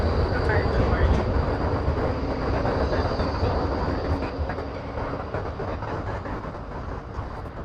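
Melbourne train station near the casino, with a loud, continuous rumble of rail traffic and a steady mechanical roar that fades slightly over several seconds, heard alone without talk.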